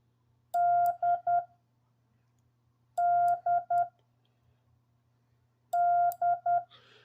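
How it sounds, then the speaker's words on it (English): Morse code letter D sent on a telegraph key as a clean tone: one long beep followed by two short ones, repeated three times with pauses between, close and clear over a faint hum. "And the letter D, da, did, did. One long sound, two short sounds."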